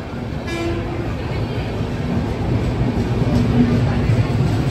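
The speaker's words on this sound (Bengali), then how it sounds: "আমাদের দ্বারকা স্টেশনের 1 নম্বর গাড়ি ঢুকে পড়েছে" A train horn toots as a train pulls into Dwarka railway station, with a steady rumble of the train and platform noise around it and people talking nearby.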